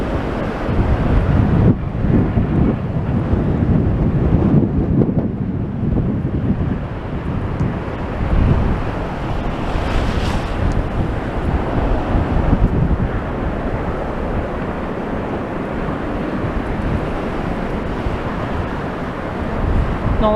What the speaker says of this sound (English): I can feel the wind picking up as I walk